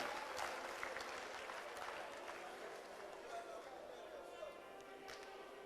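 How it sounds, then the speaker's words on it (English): Applause for a speaker at a public address runs as steady, dense crowd clapping throughout, fairly distant and even in level, with faint voices mixed in. "another round of applause"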